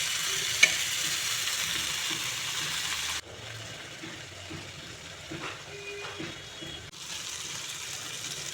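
Puti fish sour-spicy curry with pumpkin cooks over a low gas flame, giving a soft, continuous sizzle with occasional faint stirring knocks and a brief louder hiss near the start, no one speaking.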